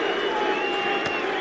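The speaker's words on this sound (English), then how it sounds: "Sarcastic applause, you'd say, from England." Spectators at a cricket ground give brief, half-hearted applause and crowd murmur, a steady distant wash with no sharp peaks, lasting only a moment.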